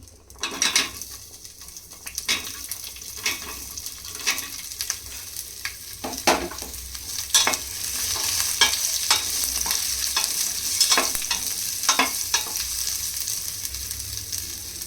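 Onions sizzle steadily in a cookware pan while being stirred, with repeated scraping and clinking of a utensil against the pan over continuous frying hiss, close up and without speech.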